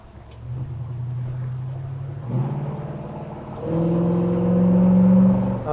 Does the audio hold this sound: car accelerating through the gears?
yes